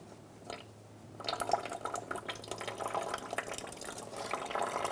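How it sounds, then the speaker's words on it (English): Coolant drains from a Honda CR-V radiator into a bucket underneath, a soft trickle that becomes a steady pouring, splashing stream after a second, fairly faint and close. "we're going to undo our plug for our radiator and drain the coolant"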